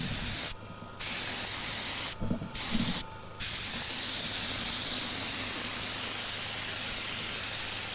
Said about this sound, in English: you can hear the air compressor running continuously in the background